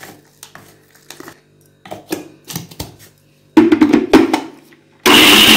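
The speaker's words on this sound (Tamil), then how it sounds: "இந்த வெள்ளத்தையும் சேர்த்து அரைச்சிப்போம்" A mixer grinder blends jaggery for a wheat bonda batter, with clattering handling knocks at first, then short loud grinding bursts and a final loud, steady whir up close.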